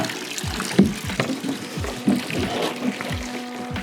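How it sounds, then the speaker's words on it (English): Water draining out of an inflatable pool lounger sloshes and pours in uneven gurgling gushes with small splashes, steady and close throughout the few seconds, with no talking. "now, we need to get this last bit of water out of here"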